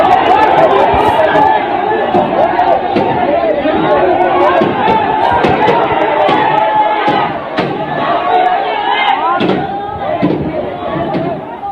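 A huge street mob gathered in Hyderabad, Sindh, roars and chatters continuously, with dense overlapping voices, shouts and scattered bangs running loud throughout.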